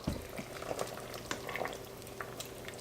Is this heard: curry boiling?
yes